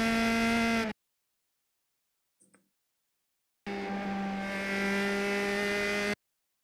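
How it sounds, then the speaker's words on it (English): A race car engine in the iRacing simulator at Mid-Ohio gives two sustained, loud droning bursts with a stretch of silence and a faint click between them. "So I'm going from fourth into third, waiting a little bit, and then second"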